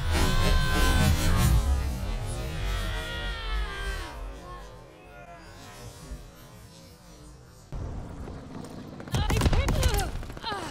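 Gunfire in Call of Duty: Vanguard multiplayer, a dense burst of rapid shots at the start, then scattered, muffled reports at varying distances, with another loud close volley near the end.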